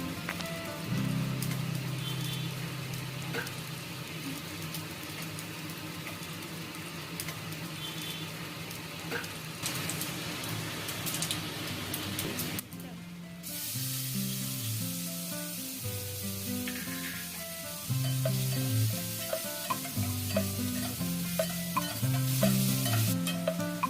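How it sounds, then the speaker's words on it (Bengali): Chopped onions with a spoon of black cumin fry in hot oil in a kadai for a boal fish curry, giving a steady loud sizzle with repeated spatula scraping and clinks throughout. "পেঁয়াজ কুচি দিয়ে ভেজে নেব।"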